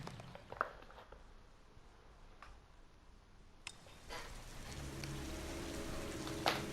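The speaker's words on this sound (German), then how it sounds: "Zurück in den schweren, schweren Regen." Steady rain from the video game Heavy Rain patters continuously at low volume, growing a little denser and louder in the second half, with a few brief sharper knocks and drips.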